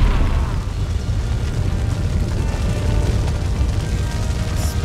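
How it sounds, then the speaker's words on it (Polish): Thunderbolts from a magic spell in the fantasy role-playing game Gothic 3 crash down on enemies, producing a dense, loud, rumbling roar that persists steadily with a brief crackle near the end. "Padają gromy na moich wrogów"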